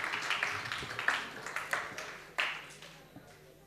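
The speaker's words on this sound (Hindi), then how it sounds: "जो लोग बचे हुए हैं अपने लिए तालियां बजा दीजिए प्लीज" Audience applause at a shayari event at Lovely Professional University, honouring poet Jasdeep Sagar: a quiet, thin patter of claps from a small crowd that fades toward the end.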